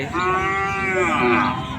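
A single sustained moo from a bull, loud and near, rings out over background crowd noise at a Bangladeshi cattle market.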